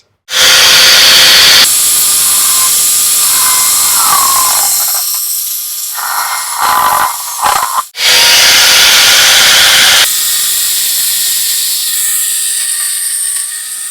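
A handheld robot cutter power tool for cutting coconut trees runs with a loud, steady high-pitched whine and hiss, cutting out briefly mid-way with a few sputtering bursts before resuming at full strength.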